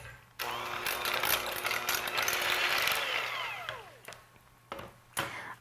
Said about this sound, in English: So I'm just going to mix that up a little bit with the mixer.